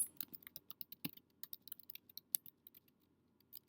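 Quick, light keystrokes on a computer keyboard patter in a fast, steady run of crisp clicks, close and fairly quiet with no talking.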